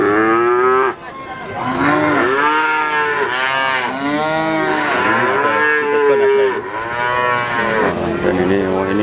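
Red Limousin and Simmental cattle at a cattle market in Magetan, East Java, low repeatedly in long, loud, drawn-out moos that overlap one after another, close by and with almost no talk.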